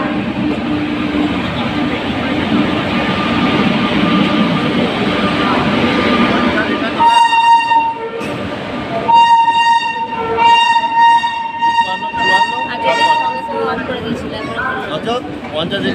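The 12316 Ananya Express pulls into Jasidih station, a steady rumble of rail noise with repeated loud train horn blasts in the middle, heard close with people talking nearby.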